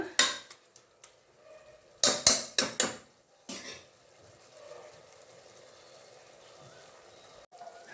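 Tomatoes cook down in a pan for tomato bath, with several sharp clanks of a spoon stirring against the metal. Between the clanks comes a soft, low sizzle and bubbling, and no one speaks.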